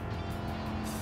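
Race car engine from Gran Turismo 7 on Toronto streets in PS5 VR2, a dense, steady engine roar with tire noise, loud and continuous for a brief moment, with no speech.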